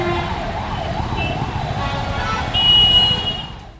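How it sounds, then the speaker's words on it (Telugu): An ambulance siren wails with a steady rising and falling cycle, stuck in dense city traffic amid a continuous low rumble of vehicles and engines, with a higher tone joining near the end. "ట్రాఫిక్లోంచి ఒక అంబులెన్స్ బయటకు రాలేని పరిస్థితి ఏర్పడింది"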